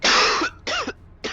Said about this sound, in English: I'm gonna see how many times I cough